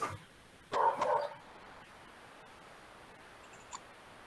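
Dogs bark in a short loud burst of a few yelps near the start, then the scene falls to faint room noise with a tiny sound near the end.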